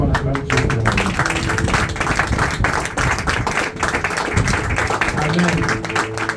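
A church congregation claps and cheers to acclaim God, steady rhythmic clapping mixed with loud voices and shouts filling the room throughout.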